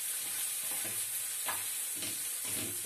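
Steady sizzling of food sautéing briefly in a pan, with occasional stirring scrapes and soft clinks, continuous and close.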